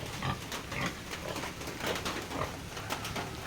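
Pigs on a farm grunting and oinking in a busy, continuous chorus of overlapping snorts and squeals, fairly close and loud, with no talk over it.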